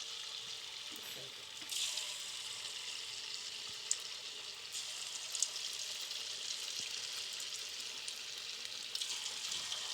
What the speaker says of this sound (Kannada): ಎಣ್ಣೆ ಕಾಯಕ್ಕೆ ಇಟ್ಟಿದ್ದೀನಿ ಆಲ್ರೆಡಿ ಕಾದಿದೆ ಎಣ್ಣೆ ಕಾದಿದೆ ಈ ರೀತಿ ಚಿಕ್ಕ ಚಿಕ್ಕದ ಉಂಡೆಗಳನ್ನು